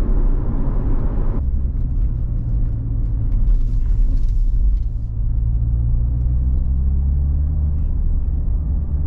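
Supercharged Chevrolet Corvette C7 Z06 heard from the driver's seat, a loud steady engine rumble with road roar that eases briefly before settling into a continuous drone, with no talking.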